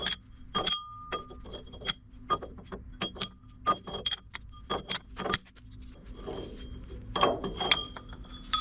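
Metal spring washers from a Kirovets tractor's rear end clink and jingle as they are handled, a close, irregular series of sharp metallic taps and small rattles with quieter gaps between.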